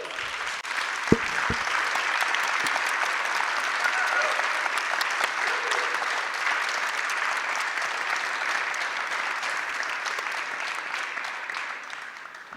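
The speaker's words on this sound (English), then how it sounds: "So please give a round of applause to what has been a brilliant session and an amazing panel." Conference audience applauds at the end of a panel session at the EMYA 2025 annual conference, dense steady clapping from a large crowd lasting throughout, moderately loud.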